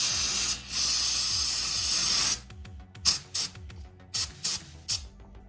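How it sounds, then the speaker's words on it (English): Brake cleaner is sprayed from an aerosol can into the head ports of a BMW N54 engine. A loud, close hiss runs for about two seconds, then a series of short sharp spurts follows. "Just use brake cleaner."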